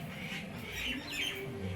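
Pigeons kept indoors in a home-built loft, some sitting on eggs, calling right after being fed: low, throaty bird sounds close by, continuous over a brief stretch with no talking.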